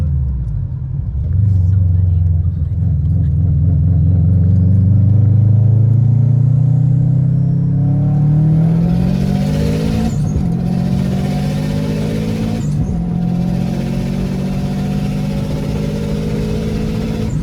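A built Subaru WRX STI with anti-lag and a burble tune, heard from inside on the road: a loud, close engine drone rising steadily in pitch under acceleration, broken by two sharp pops as the revs drop and climb again.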